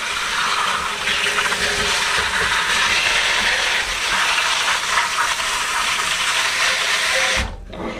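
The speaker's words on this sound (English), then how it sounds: "I am gonna just shower it with water" Tap water sprays steadily over lettuce in a kitchen sink, a loud, even hiss lasting about seven seconds before it suddenly stops.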